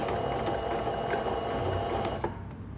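A domestic sewing machine stitches bias binding onto fabric, a close, steady mechanical whir with a fast rhythmic clatter running throughout before slowing slightly near the end.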